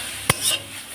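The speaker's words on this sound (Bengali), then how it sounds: "মশলাটা দিয়ে আমি এটাকে সুন্দর করে কষবো।" Vegetables are stir-fried with garam masala in a pan: a single quick utensil clack followed by a brief scraping swish over faint sizzling, close and short.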